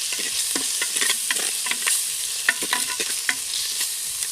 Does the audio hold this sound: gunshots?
no